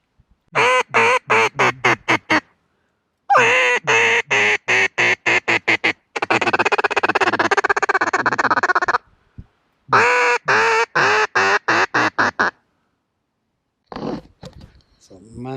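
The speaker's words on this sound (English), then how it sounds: "That looks like a whole bunch of geese coming this way." A flock of geese honking as it approaches overhead, loud bursts of rapid, repeated honks in several volleys separated by brief pauses.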